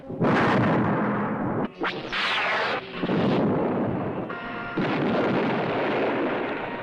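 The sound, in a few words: explosions in a movie trailer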